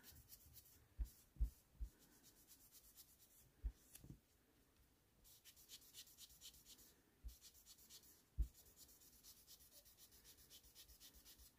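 Cotton soaked in nail polish remover rubbed over glue-covered scissors, a faint, quiet scrubbing with a few soft taps and knocks scattered through.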